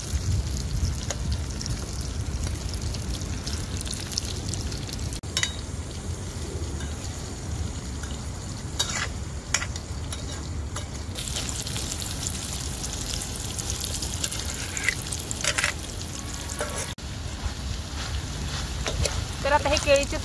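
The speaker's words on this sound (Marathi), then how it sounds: "आणि आता हे केळीचे तुकडे ना तेलामध्ये परतून घेणार आहे मी 2 मिनिटं." Raw banana pieces fry in oil over a wood-fired stove with a continuous crackling sizzle and scattered pops, mixed with bustling outdoor background noise throughout.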